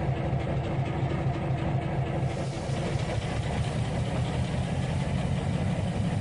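An SW1500 diesel switcher locomotive idles in the Trainz 2019 train simulator, giving a steady, close mid-range engine rumble that runs unbroken throughout with no talking.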